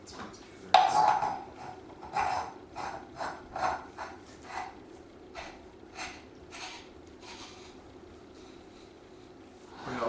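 Metal pipe and pipe nipples, 1.25-inch diameter, being fitted together for a homemade kettlebell: a string of close metallic clinks and scraping rasps at an uneven rhythm, fairly loud at first then quieter, over a low background hum.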